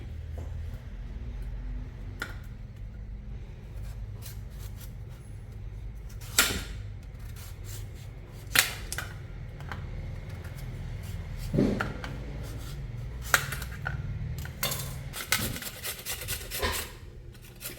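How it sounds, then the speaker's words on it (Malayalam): Peeled raw papaya is grated by hand, giving a run of quiet, irregular scraping and rasping strokes against a low steady kitchen hum, with no talking. "ഇനി ഇതൊന്ന് ചെറുതായി മുറിച്ച് ഒന്ന് ചീവിയെടുക്കാം"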